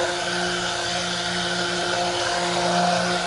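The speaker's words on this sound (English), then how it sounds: "Ooh, it's a pretty powerful stick blender actually." A powerful stick blender runs continuously while mixing cold process soap, a steady whirring motor hum with a constant pitch and no voices over it.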